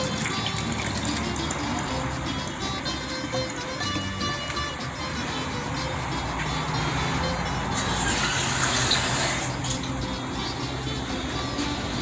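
Water is poured into a container holding pineapple peels while pique criollo hot sauce is being made. A steady rushing gush fills the whole stretch and swells somewhat louder toward the end.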